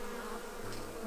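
Honeybees in an opened, recently split hive with a newly introduced queen give off a close, continuous droning hum.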